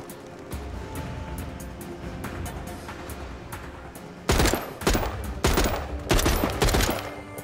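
Gunfire in The Walking Dead: Saints and Sinners video game: a rapid volley of loud, close shots in several bursts after a stretch of quieter ambience.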